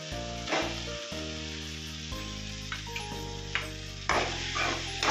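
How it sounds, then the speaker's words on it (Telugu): Dried fish pieces frying in a pan with chili powder and salt for a cucumber and dried fish curry, a steady crackling sizzle with occasional stirring clatter under background music. "కారం వేసాం కదా ఇప్పుడు ఎండి చేప ముక్కలు వేస్తున్నాం"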